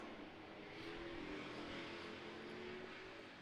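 Street stock race cars lap a short oval track, a continuous engine roar with a steady droning pitch that swells gently as the pack circles, with no voices over it.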